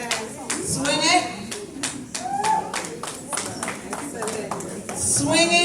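An audience at a cybersecurity commencement ceremony claps in a series of sharp, spaced hits under continuous talking and voices, the clapping uneven and close, rising again toward the end.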